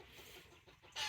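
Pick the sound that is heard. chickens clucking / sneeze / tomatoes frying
chickens clucking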